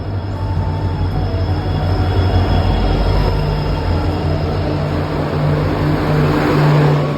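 A train at a railway station rumbles steadily with a low engine hum and rolling wheel noise, loud and continuous, with no voices.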